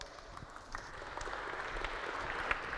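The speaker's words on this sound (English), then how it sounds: "A round of applause" Applause from an audience at a tech talk on browser APIs, a fairly faint, diffuse patter of clapping that builds slightly toward the end, heard alone without speech.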